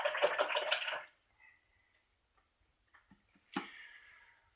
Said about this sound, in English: I'm rinsing the brush now.